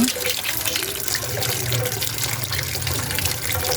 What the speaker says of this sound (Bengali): প্রথমে পাতাগুলো সুন্দর করে ধুয়ে নেব